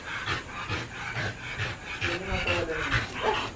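Pet American Bully dogs panting after exercise, a quick steady huffing rhythm heard close up over background noise, with a voice talking faintly in places.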